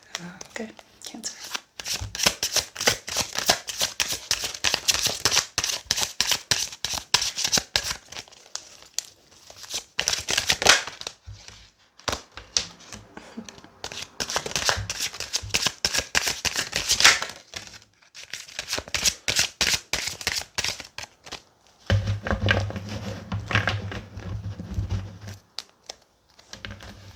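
A large tarot card deck is riffled and shuffled repeatedly in crisp flurries, with crinkly shuffling bursts and brief pauses, and a voice speaks briefly near the end.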